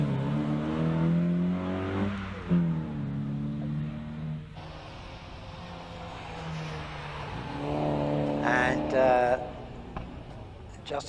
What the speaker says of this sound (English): And Howard Cressy precedes him in the Porsche Cayman.